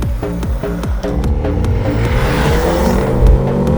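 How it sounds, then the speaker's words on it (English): A BMW M135 in sport plus mode launches hard under launch control, its engine revving loud and close then pulling through rising gears with a steady, strong drone and brief tire noise. "left foot hard on the brake, accelerate, launch control active."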